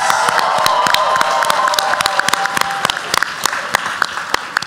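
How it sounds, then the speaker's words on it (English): Audience at the South Side Pitch 2023 competition applauds the finalists: loud, dense, continuous clapping with a few cheers and a faint whistle-like tone, close and sustained throughout. "can I hear one more round of applause for all of our finalists?"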